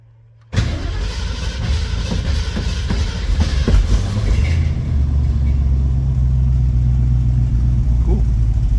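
A car engine cranks and catches at once, then runs loud and close with a rough idle and a few revs before settling into a steady low drone.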